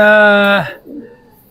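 Racing pigeons cooing close by, a loud sustained coo that breaks off, followed by softer low murmuring from the loft.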